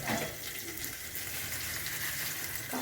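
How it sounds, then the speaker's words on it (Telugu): Cashews and slit green chillies fry in a pan of hot oil for cashew rice, giving a steady, close hiss and crackle that runs evenly throughout with no voices. "ఇవన్నీ బాగా ఫ్రై చేసుకోవాలి. ఈ కాజు కూడా వేసుకున్నామండి."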